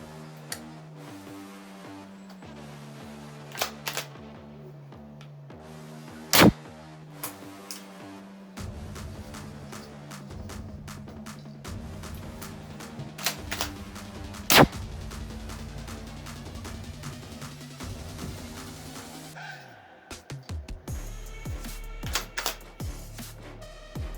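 Umarex air-powered arrow gun firing arrows at close range: a couple of sharp, loud shot cracks stand out over a steady hissing mechanical background, with scattered ticking clicks and no talking.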